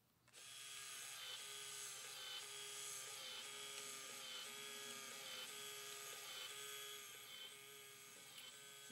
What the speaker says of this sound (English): Now let's watch what comes out of our printer.